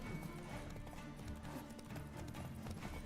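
Steady clip-clop of horse hooves in the video game The Witcher 3, a continuous rhythmic trot heard fairly quietly throughout.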